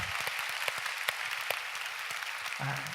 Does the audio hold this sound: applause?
yes